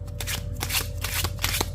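Tarot cards shuffled by hand, a steady run of close, crisp riffling flutters lasting under two seconds with no talk.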